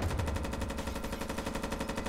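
Rapid automatic gunfire in a tactical shooter game, a steady fast rattle of shots fired through walls, sustained and fairly close with no talking.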